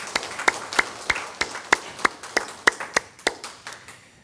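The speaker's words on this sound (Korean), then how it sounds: "우리 하나님께 영광의 박수를 올려드리겠습니다" A church congregation at Sunday worship claps in a slow, regular rhythm of about a dozen sharp, unison claps, close and distinct, with no talking over them.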